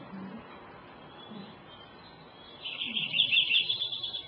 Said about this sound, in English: And Lincoln sparrows singing.